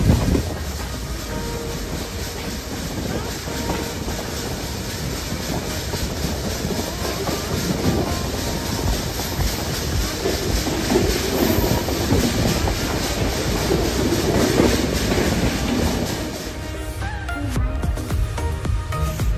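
A Nilsagar Express train on the Dhaka to Naogaon run, heard from the open carriage door: a loud, steady rumble and rattle of wheels on track that continues throughout, with no talking.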